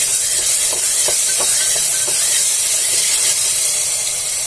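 Ginger garlic paste frying in a pressure cooker, a loud, steady sizzling hiss with a few faint clicks of stirring, no voices.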